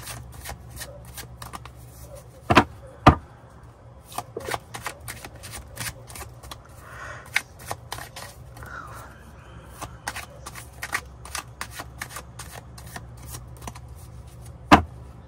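Tarot cards being shuffled up close, with repeated papery riffles and brisk flicks, and a few sharp snaps standing out from the steady shuffling.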